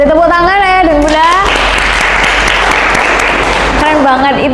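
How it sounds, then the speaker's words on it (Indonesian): Audience applause swells up in a room during a parenting talk, a dense burst of many hands clapping for a few seconds, with a speaking voice heard before and after it. "Boleh tepuk tangan ya dan bunda."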